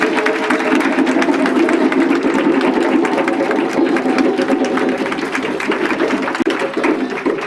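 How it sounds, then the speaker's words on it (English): Applause fills a graduation and awards ceremony as parents are welcomed: a dense, steady wash of many hands clapping throughout, loud and continuous with no pause. "Those applause were for you parents"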